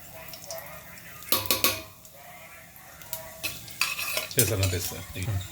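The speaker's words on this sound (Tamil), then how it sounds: "இப்போ பிரியாணி தாளிப்புக்கு தேவையான இந்த ஐட்டத்தை இதில் போடுறோம்" Whole spices for chicken biryani made with jeeragasamba rice are tempered in hot ghee. Clattering spoon stirs and metal scrapes ring out over a soft sizzle, with no talking.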